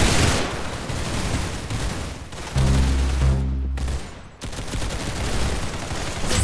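Video game gunfire from Roblox Arsenal, loud dense bursts of rapid shots rattling almost continuously, broken by one short pause before the firing resumes.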